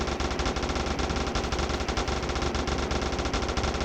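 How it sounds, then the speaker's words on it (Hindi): Rapid automatic gunfire fired into the air in a gangster crime video game, a loud continuous stream of closely spaced shots that runs without pause for several seconds, with no talking over it. "अब हम हवा फायर करते हैं"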